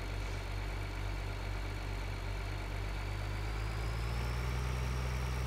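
A tractor engine idles in Farming Simulator 2013, a steady low diesel rumble that stays constant and close throughout, with no talk over it.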